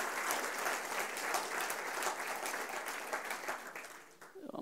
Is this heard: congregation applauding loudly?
yes